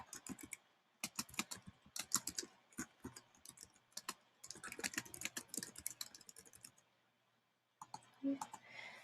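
Quiet, close computer keyboard typing in Google Docs: rapid clusters of light key clicks separated by short pauses, with one longer silence near the end before the tapping resumes.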